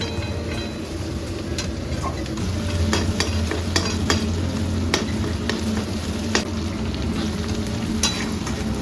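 Rice frying in a little ghee with whole spices and bay leaves for a vegetarian biryani, a steady sizzle with repeated scraping stirs of a spoon against the pan throughout.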